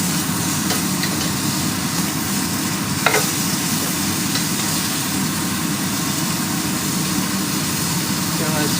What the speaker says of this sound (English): Gonna let it sear on both sides for another 2 minutes